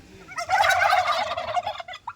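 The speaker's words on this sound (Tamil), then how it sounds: "டர்க்கி அண்டு என்னது வான்கோழியா வெண்கோழியா" Turkeys gobble on a chicken farm at a school, a loud, close, rapid warbling burst lasting about a second and a half, with a few fainter calls trailing after it.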